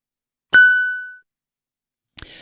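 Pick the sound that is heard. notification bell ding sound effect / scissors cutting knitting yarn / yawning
notification bell ding sound effect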